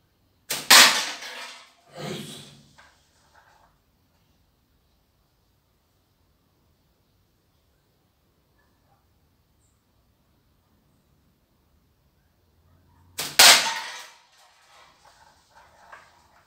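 Slingshot shots striking a tin can outdoors, a sharp metallic clank followed by a second hit, then a long quiet pause before another loud impact.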